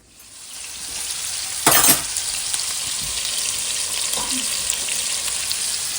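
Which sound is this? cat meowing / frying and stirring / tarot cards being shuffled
frying and stirring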